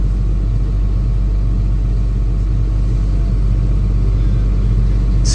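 A JCB Fastrac tractor engine idles with a steady, loud low rumble and builds air pressure for the brakes, running continuously with no other sounds.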